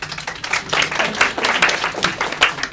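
An audience claps after a costumed Revolutionary War hero speaks of fighting at the Battle of Yorktown. The clapping comes in uneven, lively bursts from a modest crowd, fairly close and without talk.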